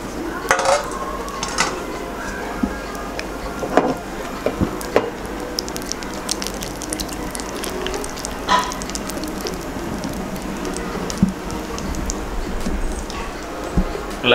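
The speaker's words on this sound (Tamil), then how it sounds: "நல்லா கேஷ்யூஸை வந்து பொரிச்சு எடுத்துக்கோங்க" Cashews frying in about three tablespoons of hot ghee for mushroom biryani, a steady crackling sizzle with scattered clinks of a utensil against the pan, a voice speaking over it throughout.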